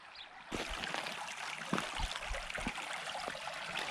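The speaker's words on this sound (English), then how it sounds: "Can you hear the river in the distance?" A distant river flows in a steady broadband wash beneath an outdoor mudlarking search, its rushing hiss continuous and fairly soft, with a few brief knocks and scrapes close by.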